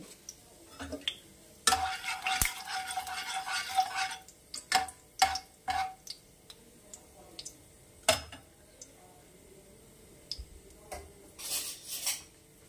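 Asafoetida spluttering in hot oil in a pan on a gas stove for a Bengali pointed gourd malaikari, with bursts of crackling and sharp pops, plus scattered clinks of a utensil against the pan.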